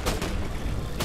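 Two sharp gunshots from a video game, one at the start and one near the end, over a low rumbling game background.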